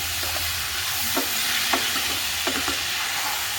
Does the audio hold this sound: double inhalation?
no